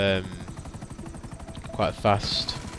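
In GTA 5, the rhythmic chopping rotor and engine hum of a Buzzard helicopter in flight runs steadily under close commentary from someone talking.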